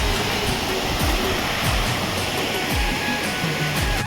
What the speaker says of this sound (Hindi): ऊपर से नीचे गिरत है झरना है